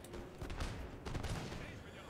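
Musket volleys in a Napoleon: Total War battle, several crackling bursts of massed fire overlapping in a busy battlefield soundscape, with someone talking over the shots.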